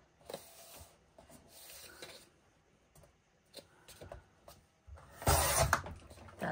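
Paper being trimmed for the inside back cover of a handmade book, with soft cutting and rubbing strokes at close range, short scrapes separated by pauses, and a louder, fuller cut near the end.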